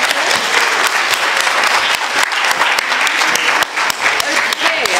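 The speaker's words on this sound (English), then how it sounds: "Let's give them a round of applause." A crowd at an African youth festival discussion applauds loudly and close, with dense uneven clapping and voices mixed in throughout.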